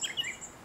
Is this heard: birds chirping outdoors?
yes